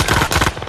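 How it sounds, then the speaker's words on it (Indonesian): Rapid gunfire from German soldiers in a World War II film, a dense burst of several quick overlapping shots, loud and close, with no speech. "ia hampir tewas dihujani peluru tentara Jerman"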